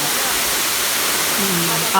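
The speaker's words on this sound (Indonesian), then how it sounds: "Air terjun Sedudo." Sedudo waterfall in Sawahan, Nganjuk, East Java, roars as a dense, constant rush of falling water that fills the scene loudly and evenly, with a faint voice briefly surfacing near the end.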